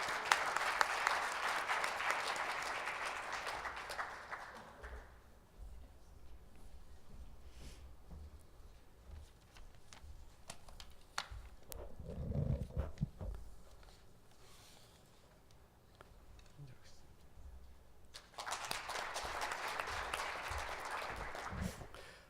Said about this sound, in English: Please welcome Professor Kang with a big round of applause.